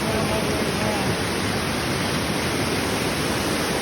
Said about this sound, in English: I'm literally sitting on a rock in the middle of the waterfall.